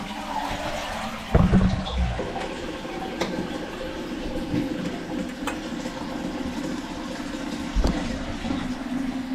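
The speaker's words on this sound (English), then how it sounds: "let's allow that to fill and we shall give it a test flush." Toilet test flush after a plumbing repair: a sharp rush of water followed by the steady hiss of the cistern refilling, with another brief surge near the end and no voices.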